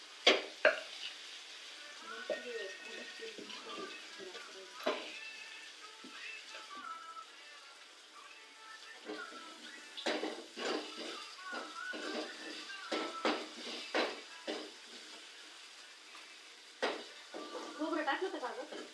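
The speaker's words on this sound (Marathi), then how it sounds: "हे बदल मी साराला पण फोडणी देणार आहे" Mustard-seed tempering sizzles and pops in hot oil in a pan on a wood-fired clay stove, mixed with intermittent clinks of a spoon against the pan and occasional soft talk in the background.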